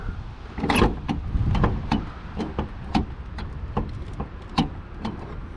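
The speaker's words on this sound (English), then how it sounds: "Let me open this trunk." Trunk of a BMW X5 E70 3.0 SD opening, a run of close mechanical clicks and latch knocks with a faint motor whir, fairly loud against quiet surroundings.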